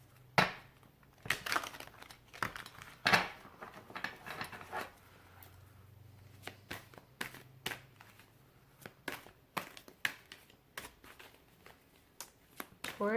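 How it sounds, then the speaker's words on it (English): Tarot cards being shuffled by hand, a quiet run of crisp riffling snaps and soft papery slides in uneven bursts, close and alone without talk. "One more shuffle."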